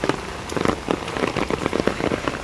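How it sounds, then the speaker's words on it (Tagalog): Rain falling steadily, pattering loudly and close on a nearby surface with dense, irregular drips, no voices. "Naulan na naman guys"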